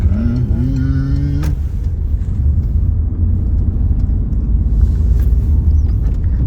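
A car rolling through a city intersection on a driving exam, a steady low engine and tyre rumble heard from inside the cabin, with a brief tonal chime or whine at the start.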